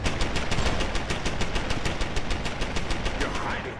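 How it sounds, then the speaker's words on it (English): Automatic gun turret in the video game Deus Ex: Human Revolution firing a rapid, steady burst of shots, loud and close with a hard rhythmic rattle lasting several seconds. "It's like the turrets can't be blown up with our explosive rounds here."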